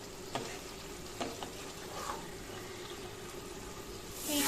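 A dish sizzles and fries in oil in a pan while a utensil stirs it, giving a steady hiss with a few scraping knocks and a louder burst of sizzle at the end.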